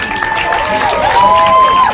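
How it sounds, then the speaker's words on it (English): Outside the GEO Group headquarters in Detroit, a protest crowd claps and cheers loudly, with whistles and shouted voices rising over the applause as it swells toward the end. "Give her a round of applause."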